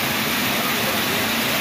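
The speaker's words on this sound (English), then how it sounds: "It is flat raining out right now." Heavy rain pours down outdoors on a farmer's market day, a dense, even hiss with no gaps throughout the short moment.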